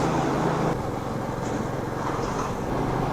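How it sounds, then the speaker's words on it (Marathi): Heavy vehicle traffic on the Bhiwandi bypass, heard from a moving motorbike: a steady, dense road roar with low engine drone and wind, no voices. "हे हेवी व्हेकल्सचा ट्रॅफिक चालू झालं आहे"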